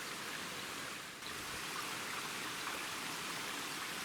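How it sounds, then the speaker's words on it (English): Small creek flowing in the Cranberry Wilderness, a continuous even hiss of rushing water, fairly quiet and steady with no voices over it. "Pretty little creek."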